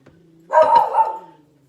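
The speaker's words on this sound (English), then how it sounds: "there's my dog barking." A dog barks once or twice in quick succession, a loud, fairly close burst heard indoors in a home kitchen during bread baking, with a faint hum before it.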